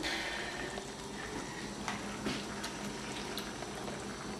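Water boiling in a pot, a steady close bubbling and rushing wash with scattered small pops, continuous throughout with no voices.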